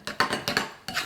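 A spoon clinks and scrapes against a bowl as it stirs avocado dip flavoured with essential oil, four quick close metallic taps in about a second, clear and alone.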